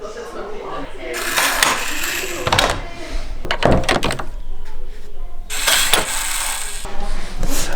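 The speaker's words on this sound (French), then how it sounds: "je vais faire une petite démonstration de l'ouverture de la porte" An old wooden door in a cold Mongolian inn is opened by its handle, giving a series of clunks, rattles and creaks close by, with a person talking over parts of it.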